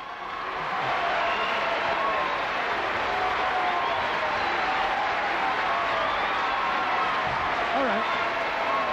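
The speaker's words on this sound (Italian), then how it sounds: "Pino Daniele, un applauso per lui." Steady, sustained applause from a crowd at an awards ceremony in honour of Pino Daniele, filling the room for several seconds without a break.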